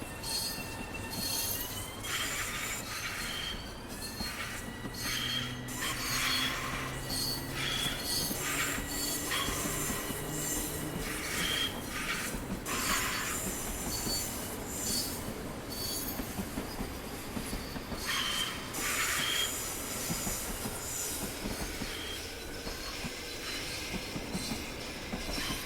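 An LIRR commuter train in Train Sim World 4 departs with steady rolling rumble, squealing wheels and rhythmic clicking over the rails, sustained and fairly close throughout with no talk.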